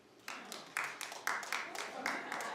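A studio audience on a daytime talk show breaks into scattered clapping, a few short sharp rounds of hand claps rising and falling, fairly faint and thin rather than a full roar.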